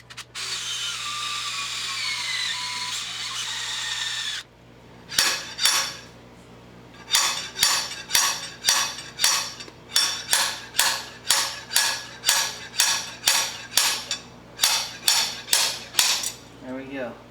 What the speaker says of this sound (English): I gotta drill a couple more holes and try to work around the side here.